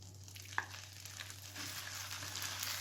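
Small pieces of chicken fry in butter in a pan, giving a steady close-up sizzle and crackle with one sharp clink near the start and the frying growing a little louder toward the end.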